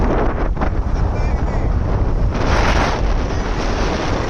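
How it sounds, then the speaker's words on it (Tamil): Strong wind at sea roars continuously across the microphone in a dense, loud rush of noise, with a faint hint of voice underneath. "வேற லெவலில் காற்று அடிக்குது"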